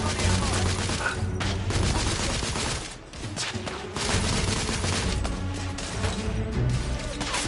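Dense suppressing gunfire in The Order: 1886, a steady barrage of rapid overlapping shots and bursts with a brief lull midway, loud and close.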